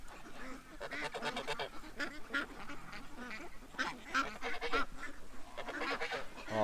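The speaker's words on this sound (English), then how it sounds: "See, I'm talking, so the goose comes over." A goose honks repeatedly alongside quacking ducks loose in a yard, a close, busy chorus of overlapping calls with no voices.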